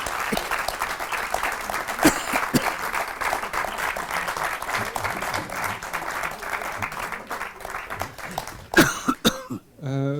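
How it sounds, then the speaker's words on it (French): Audience applause after an interview with a painter, a steady wash of clapping for about nine seconds with a few coughs and throat clearings mixed in, ending in a brief burst of louder sounds. "Je crois qu'on peut applaudir Robert Alain et Michel Alara."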